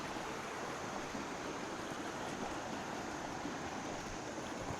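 Waterfall at Tad Ban Sannon in Lao Ngam district, Salavan province, Laos: a steady, unbroken rush of falling water, moderately loud and even from start to finish, with no voices.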